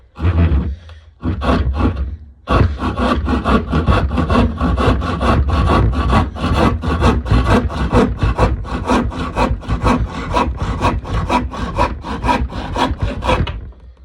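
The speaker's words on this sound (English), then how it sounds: "we're just going to cut it to length on the tenon saw" A tenon saw cutting a piece of wood to length for a mallet: a couple of short starting strokes, then a long run of steady, rhythmic back-and-forth rasping strokes, close and loud.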